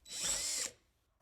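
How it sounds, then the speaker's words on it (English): A power drill briefly bores through the sheet-metal roof of a Chevy Astro van, a single short high whine that cuts off abruptly, fairly faint and close. "We done drilled 4 holes in the perfect good top of an Astro van."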